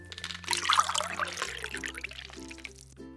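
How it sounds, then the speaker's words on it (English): Thick fruit smoothie trickles and splashes softly as it is poured into a cup, over a quiet background hum. "Let's pour it into this cup."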